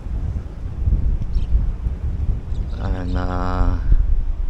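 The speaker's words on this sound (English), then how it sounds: "It's more windy down here." Wind blowing across an open drone launch site during a DJI Air 3 flight test, a steady low rumble of gusts buffeting the microphone, loud and continuous, with a person speaking briefly over it.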